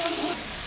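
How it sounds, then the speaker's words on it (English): Beef, alpaca and lamb sizzling on a grill at a Peruvian meal, a steady close hiss of frying fat that runs briefly without a break. "You can hear it sizzling."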